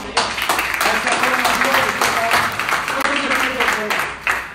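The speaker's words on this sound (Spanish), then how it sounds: "Un aplauso para el Señor." A church congregation claps together in praise, a loud, close rhythmic clapping that runs throughout with voices and a tonal backing mixed in.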